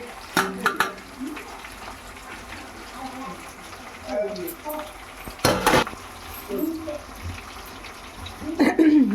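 A spoon stirs and scrapes a pot of ground ginger chutney mixed with pounded garlic, dried red chillies and peanuts, making soft intermittent clinks and scrapes while muffled voices talk in the background.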